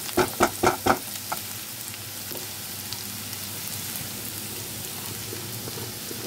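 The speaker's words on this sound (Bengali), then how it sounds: "পেঁয়াজটা একটু ভাজা হবে," Onion frying in a pan with whole cumin seeds for a vendi dopiaza, a steady soft sizzle throughout, with a few louder stirring clatters near the start and no talking.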